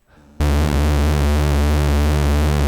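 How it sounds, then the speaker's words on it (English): KV331 Synthmaster square-wave synth tone with LFO-driven pulse width modulation starts abruptly after a short quiet lead-in, then holds loud and steady with a slowly shifting, sweeping harmonic timbre. "when you modulate this with an LFO, that's called pulse width modulation"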